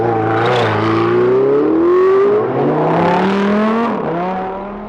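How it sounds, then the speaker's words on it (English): Supercar engine on Dubai roads, a loud, continuous roar that rises and shifts in pitch as it revs and accelerates close by for about five seconds, with no voices. "if you have some super roads, you need some supercars"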